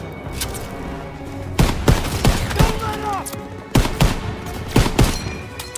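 Machine gun fire in a Battle of Normandy video game, loud bursts and repeated gunshots in rapid clusters, with booming impacts and shouting voices mixed in.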